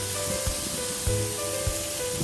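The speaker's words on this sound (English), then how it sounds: "Give it a good spray." Oil misted in short spray bursts over pork laid out on a grill for Vietnamese grilled pork spring rolls, a steady soft hiss with faint thuds.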